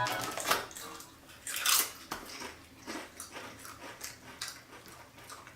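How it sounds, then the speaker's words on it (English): A dog crunches on potato chips nearby, with irregular bursts of chewing and crackling spread across several seconds at moderate loudness, with no talking. "If you hear crunching noises, that's her eating chips."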